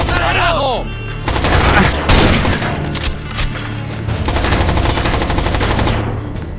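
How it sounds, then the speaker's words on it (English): Automatic gunfire in the Rainbow Six Vegas video game, loud sustained bursts of rapid shots with booming hits, mixed with in-game voices. "Where are they shooting me from?"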